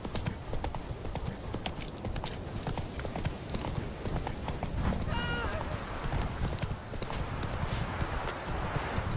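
Horse hooves clip-clopping at a slow walk in The Witcher 3, a steady close hoof rhythm with a brief whinny and a voice speaking over it.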